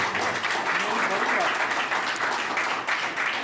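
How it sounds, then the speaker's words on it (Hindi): An audience at a comic talk show claps together on request, a dense, steady burst of applause that fills the short stretch at moderate loudness. "एक बार ताली बजा के मुझे बता दो"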